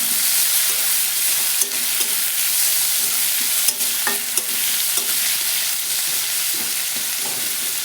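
Onions frying for egg curry, giving a loud, constant sizzle with scattered stirring scrapes and clinks and no voices.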